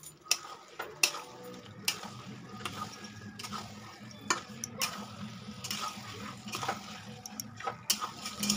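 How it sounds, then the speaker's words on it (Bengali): Mutton curry being stirred and turned with a metal spatula in a pan, giving repeated sharp scrapes and clinks at an uneven rhythm over a soft background hiss, close by. "তো দেখো আমি কিন্তু খুন্তি দিয়ে বারবার নাড়াচাড়া করে নিচ্ছি"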